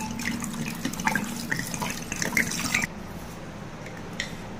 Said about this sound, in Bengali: এটাতে জল দিয়ে দিলাম